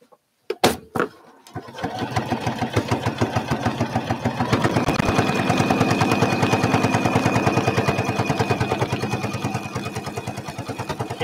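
A sewing machine stitches a quilt seam in a rapid steady mechanical patter, close and loud, after a few sharp clicks at the start, running continuously with a faint high whine underneath.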